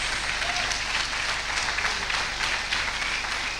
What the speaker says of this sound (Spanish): Dele el aplauso, pero fuertísimo.